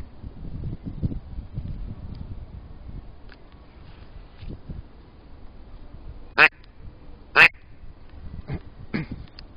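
A BG Tall Timber duck call lure gives two short, loud quacks a second apart against quiet outdoor background noise.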